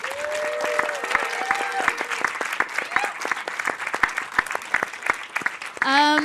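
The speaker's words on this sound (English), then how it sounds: "So please give everyone and yourself a round of applause." Applause breaks out across the crowd at a skateboarding community summit, a crisp patter of scattered claps beneath a voice talking and calling out over it, with a louder shout or cheer at the very end.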